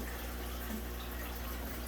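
Water flows steadily and continuously into a bucket while a pump draws water from a fish tank in a fish room, a constant close splashing rush with no pauses.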